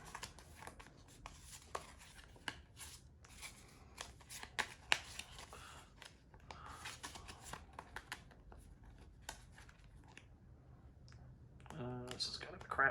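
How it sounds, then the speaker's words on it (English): A deck of playing cards is shuffled by hand for a pro wrestling promoter card game, with repeated crisp riffles and snaps through the stretch, then a final bridging flutter near the end; fairly quiet and close. "This is kind of a crappy shuffling job."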